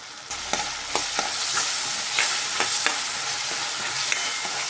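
Thick chopped tomato goes into hot oil for an onion- and garlic-free vegetable curry and is stirred. A soft sizzle runs throughout, broken by several sharp spoon taps and scrapes against the pan. No one speaks.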